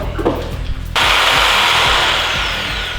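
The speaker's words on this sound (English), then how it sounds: "New saw is good." A new power saw cuts plywood during a workshop build, a loud sustained whine kicking in abruptly after a few quiet clicks and holding steady close up.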